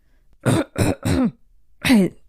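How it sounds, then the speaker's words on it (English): Four short, rough throat-clearing coughs, three in quick succession and a final louder one after a pause, close and dry. "He coughed and then let out a hoarse greeting."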